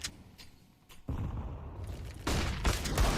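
Counter-Strike match on the Train map: sharp in-game gunfire bursts and a loud burst that fits a flashbang grenade going off, closely followed by more shots, with a sudden jump in loudness about a second in.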